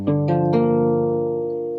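A single jazz guitar minor 7 chord in root position strummed and left to ring, with a couple of quick string attacks early on before it sustains and slowly fades.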